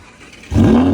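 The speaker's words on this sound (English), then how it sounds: "Give us a cold start, man." An Audi R8 Performance engine fires up on a cold start, a sudden loud roar kicking in halfway through and holding a strong, steady high idle after quiet surroundings.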